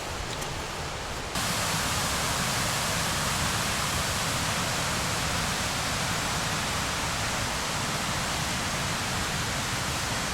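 Aber Falls in Snowdonia, a waterfall in a rainy national park, rushes with a dense, unbroken roar, loud and constant throughout with no other sounds.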